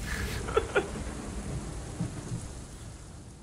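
Rain in a Kingdom Hearts χ video game cutscene, a soft hiss of falling rain with a low rumble of thunder and a few brief thuds, fairly faint and fading toward the end.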